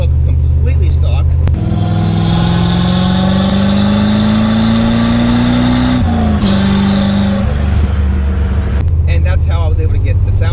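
A C4 Corvette with a modified exhaust that keeps stock-looking mufflers and catalytic converters revs loud and close, its engine note climbing steadily, dropping briefly, then settling back to a deep idle rumble.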